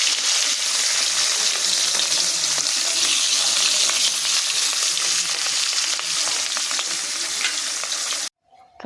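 Leafy greens (shak) fry and get stirred in a home kitchen pan, a steady loud sizzle with scraping stirs running throughout, then cutting off abruptly near the end.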